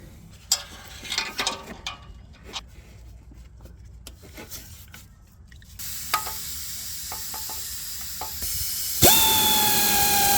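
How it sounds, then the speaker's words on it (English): Ratchet wrench tightening two stud bolts on a Toyota Prado 120 Series starter motor (4.0 V6 petrol), heard as a run of close, sharp mechanical clicks that grow denser and more continuous toward the end. "Now I need to put the 2 stud bolts back in."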